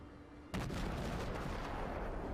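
Naval gunfire from the cruiser Phoenix in World of Warships: after a brief quiet lead-in, a loud booming salvo bursts in and rolls on as a sustained rumbling barrage of shell impacts, with no voices.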